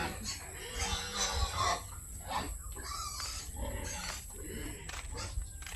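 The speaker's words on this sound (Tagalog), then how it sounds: "Ang ingay ng aming mga baboy" Farm pigs in the Philippine countryside grunt and squeal in a noisy, continuous jumble, fairly close, with overlapping snorts and shrill cries.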